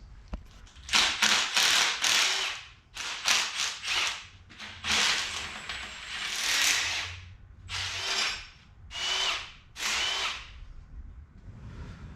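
Power tools whir in repeated loud bursts of a few seconds each with short pauses between, close up, while the intake is taken off a Nordic engine.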